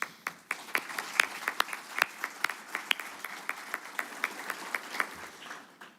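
Audience applause at a college awards ceremony, steady clapping from a crowd with sharp individual claps standing out, sustained throughout without talk.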